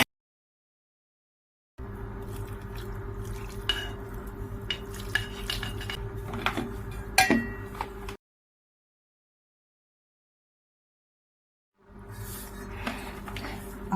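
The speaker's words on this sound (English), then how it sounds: "Let me just mix this up again." A spoon stirs milk into mashed garlic potatoes in a pot, with close scraping and soft clinks against the metal over a steady low hum. The sound cuts out into silence, then resumes briefly.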